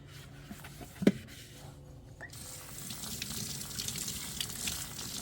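Water from a tap runs and splashes steadily while plastic GreenStalk vertical garden tower discs are rinsed, starting after a single knock and continuing as a close, moderate gush without talk.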